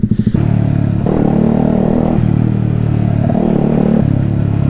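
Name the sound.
125cc motorcycle cold start, engine revving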